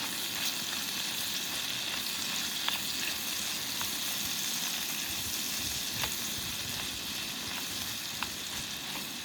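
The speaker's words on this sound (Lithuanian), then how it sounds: "Kol kepa šoninę su svogūnais" Bacon and onions frying in rendered bacon fat, a steady close sizzle with faint crackles and occasional pops across the whole stretch, no voices.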